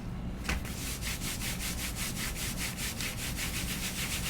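Paper rubbed back and forth over a painted journal page, a steady run of rhythmic scratchy strokes at close range, roughly a dozen evenly spaced passes with no voices.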